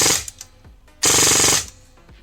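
A toy blaster with a T238 28K brushless motor on 11.1 volts fires full-auto, a short burst followed by a loud sustained buzzing volley of about half a second, rapid and close up.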